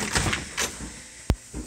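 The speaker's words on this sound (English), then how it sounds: "We open the doors to let the goats in up on this table to milk them." Doors of a goat milking parlor in a dairy barn rattle and slide open with scraping, shuffling noises and one sharp clunk, moderately close and fairly quiet.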